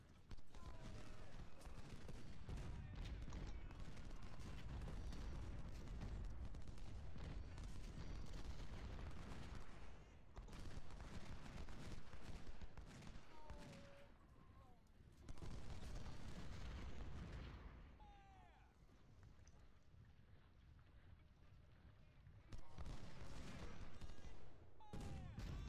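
Musket volleys crackle in a Civil War battle video game, dense overlapping gunfire and booms rolling continuously with brief lulls, mixed with battle noise and someone speaking now and then.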